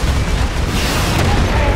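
A grenade explodes in Warhammer 40k Space Marine multiplayer. It is a dense, loud, booming rumble that fills the whole stretch, blended with continuous battle noise and no clear single blast.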